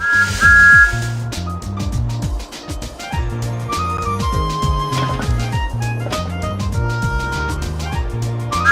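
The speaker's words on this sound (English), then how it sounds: "Pull the whistle to let them know we've arrived." Game music from Thomas and Friends: Railway Adventures fills the scene, with a bright whistle-like tone sounding loud and briefly near the start, over steady bouncy accompaniment.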